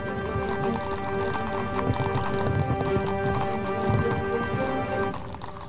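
Horse hooves clip-clop steadily in the medieval video game 1428 Shadows over Silesia, a quiet continuous trotting rhythm beneath sustained tonal game music.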